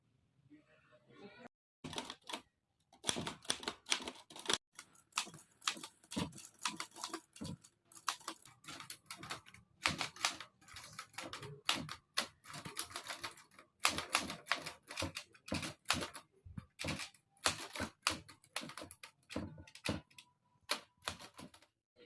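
A typewriter clatters away at a script in rapid, irregular bursts of sharp key strikes with short pauses between runs, close and dry, with faint voices in the background.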